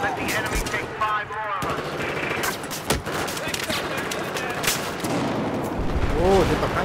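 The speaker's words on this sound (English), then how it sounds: "No idea what I'm shooting or where I'm shooting." Rapid bursts of automatic gunfire and scattered shots from the shooter game Battlefield 4, in a Team Deathmatch match, crackling loud and near through most of the stretch, with voices talking over the shooting.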